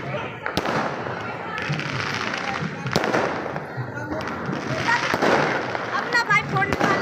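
Firecrackers being set off outdoors: sharp pops and crackles recur through a busy crackling backdrop, with people talking and shouting in the background.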